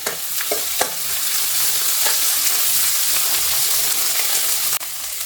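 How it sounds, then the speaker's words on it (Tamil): Onion, tomato and curry leaves sauté in a pan with a steady, close sizzle. A few sharp scrapes of stirring break through the sizzle, and no one speaks. "தக்காளி நல்லா வதங்கி வரட்டும்"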